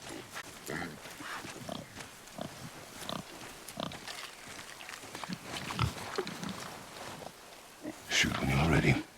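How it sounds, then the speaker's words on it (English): A boar in the God of War video game gives repeated grunts and snorts at close range, scattered among bursts of in-game speech, ending in a louder rush of noise. "I knew it was a boar."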